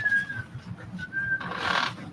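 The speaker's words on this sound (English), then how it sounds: "Who's whistling?" Someone whistles in a courtroom, two thin sustained tones with a pause between them, faint over low room murmur, followed by a brief burst of rustling.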